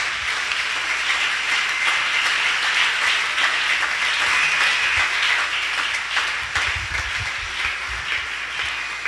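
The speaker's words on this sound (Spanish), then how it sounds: "Si lo va a aplaudir, hermano, hágalo con todas sus fuerzas" Church congregation applauding during a worship service, a dense, loud wash of clapping that carries steadily throughout with no pause, heavier thumps and rumble coming through near the end.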